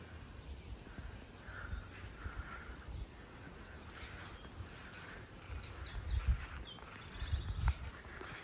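Birds sing beside a lake at a campsite on a summer evening, a scatter of high, thin chirps and trills repeating across the clip over a soft outdoor wash, with no talk.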